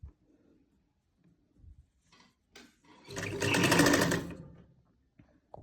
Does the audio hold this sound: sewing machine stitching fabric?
yes